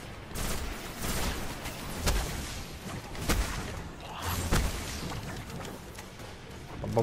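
Gunfire from a shootout in Destiny: scattered sharp shots and bursts crack out at a moderate level over a rumbling game background, without speech.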